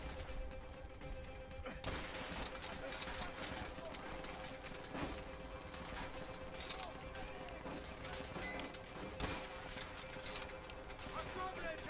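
Dense battle din from World at War, with rapid gunfire, mechanical clatter and shouting voices running throughout at steady high loudness, consistent with MG42 machine gun bursts amid other combat noise.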